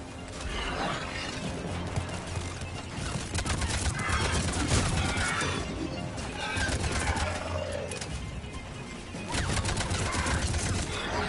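A machine gun fires in bursts in Mass Effect 3 Legendary Edition. The rapid rattling volleys recur through the stretch over a busy mix of game effects, and the dense chatter of fire stays loud throughout.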